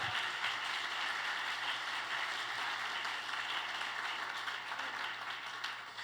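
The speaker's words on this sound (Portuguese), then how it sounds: "aplauda Jesus por isso." Congregation clapping in a Portuguese-language church service, a dense, steady wash of applause that holds evenly throughout and sounds somewhat distant in the hall.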